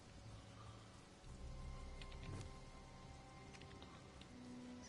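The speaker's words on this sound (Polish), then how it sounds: "Poczekam, aż przestanie padać." Rain falls in the video game Conan Exiles as a steady, faint patter on surfaces, a soft even hiss with no voices over it.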